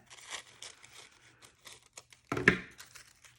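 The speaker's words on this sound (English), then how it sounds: "Now what I'm going to do is I'm just going to cut right along here." Scissors cut along a paper craft tag in a series of soft, crisp snips and rustles, close and quiet, with a louder crinkling crunch of paper near the end.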